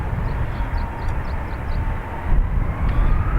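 A Ryanair jet departing Dublin Airport for Malaga gives a loud, continuous low rumble and roar that swells slightly toward the end, with a faint whine riding above it.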